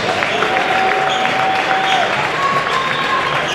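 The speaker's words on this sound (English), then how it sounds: "Taquan Woodley comes out to a round of applause" Steady applause from a large crowd at a boys' basketball game fills the space, continuous and loud, with a faint whistle-like tone drifting over it.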